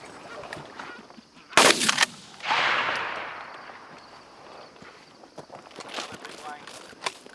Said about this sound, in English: Go ahead, shoot them, kill them.